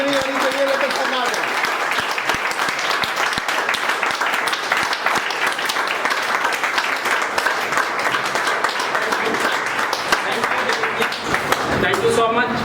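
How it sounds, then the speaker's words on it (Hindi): A standing audience at a Supreme Field Developers leaders meeting gives Mr. Deepak Raj loud, dense applause, an unbroken roar of many hands clapping at once that holds strongly for the whole stretch. "जबरदस्त तालियां मिस्टर दीपक राज सर के लिए"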